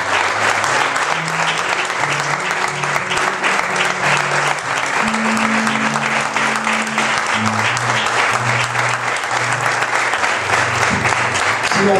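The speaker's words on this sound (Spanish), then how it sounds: "Creo que podemos poner de pie, dar un aplauso." A church congregation, standing, applauds steadily and loudly throughout, with a lone voice briefly speaking over the dense clapping.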